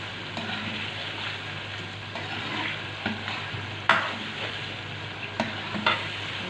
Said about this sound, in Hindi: 2-3 मिनट के लिए भूनना है इसको।